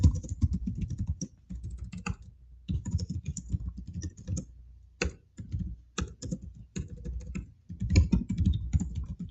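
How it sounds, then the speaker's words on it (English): Rapid bursts of typing on a computer keyboard, keys clattering in quick clusters separated by short pauses, close and distinct with no voices. "You guys are gonna hear me type, dude."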